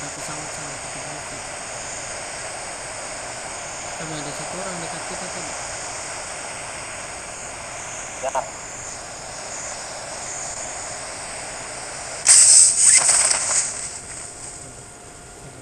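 An aircraft engine drones steadily overhead in the video game PUBG New State, a continuous broad roar running throughout while players talk quietly, and a brief louder burst near the end.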